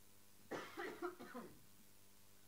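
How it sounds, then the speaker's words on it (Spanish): A quick fit of several raspy coughs in a row, close and fairly loud, followed by quiet. "todavía me queda tos."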